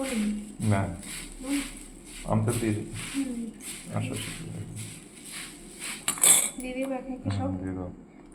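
Puffed rice (muri) being mixed with mustard oil in a bowl makes intermittent clinks and rustling scrapes, heard under a person talking.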